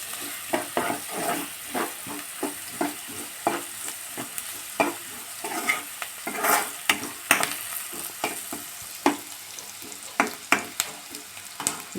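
Onions sauté in a pan for an ivy gourd gravy, a soft sizzle under repeated quick scrapes and taps of a spoon stirring, fairly close and moderately quiet.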